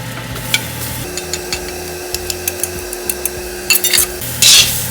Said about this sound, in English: So I'm just gonna saute the onion a little bit.